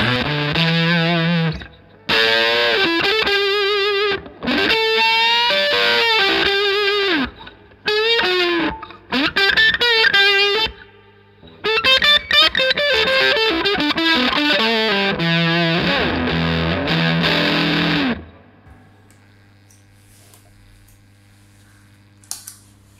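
Electric guitar played through a small germanium fuzz pedal, heavily distorted chords and riffs in bursts with brief gaps, loud and close, then stopping and ringing out into near silence.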